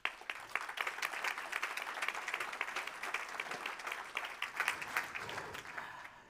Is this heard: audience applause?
yes